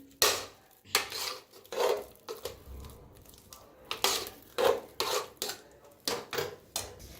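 Cooked, very soft moong dal stirred and mixed in a pan with a utensil, giving repeated scraping, clinking strokes in a steady rhythm, close and fairly quiet with no talking.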